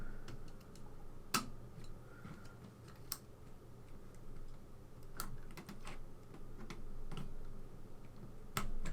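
Keycaps on a ZX Spectrum +2 keyboard are pried off with a flat-blade screwdriver, giving sparse sharp plastic clicks and snaps scattered over a quiet room background, with no talking.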